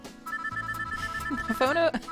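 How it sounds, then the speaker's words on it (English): A phone rings in the visual novel game Backstage Pass, a steady electronic ring tone that breaks into warbling notes near the end, heard over soft background music. "sound of a phone ringing cuts John's sentence short."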